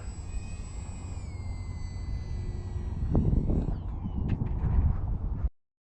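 An LDARC Tiny Wing 450X V2 FPV radio-controlled plane comes in to land in gusty wind, its steady electric motor whine sliding down in pitch, then louder rustling and scraping bursts before the sound cuts off abruptly.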